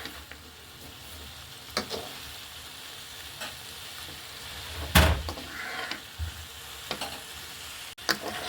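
Taro stolons sizzle steadily as they are stirred and sautéed in a pan for a Khulna-style coconut milk dish. A spatula scrapes now and then, with one louder scrape midway, and no talking.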